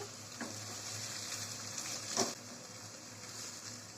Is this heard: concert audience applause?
no